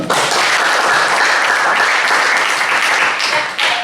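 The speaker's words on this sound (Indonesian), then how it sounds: "Berikan dulu aplaus dulu." A classroom of students clapping together in steady, loud applause that lasts nearly four seconds before tapering slightly at the end.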